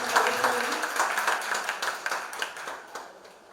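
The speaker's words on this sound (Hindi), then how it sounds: "एक बार जोरदार तालियों से स्वागत करेंगे।" An audience at a book launch and poetry gathering applauds to welcome a poet, a brisk round of close, lively clapping that gradually thins and fades.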